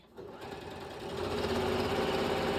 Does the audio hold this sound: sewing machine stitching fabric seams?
yes